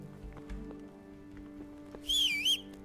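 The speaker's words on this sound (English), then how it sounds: "Oops. I whistled." A character in the video game Kingdom Come: Deliverance gives a short, clear whistle that rises and falls near the end. Soft horse hoof clops and game ambience come before it.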